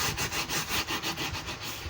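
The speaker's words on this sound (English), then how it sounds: "I'll bring my stylus and then crease properly." A stylus is drawn back and forth along paper to crease it, a close rhythmic scraping rub of about seven quick strokes in under two seconds, with no speech.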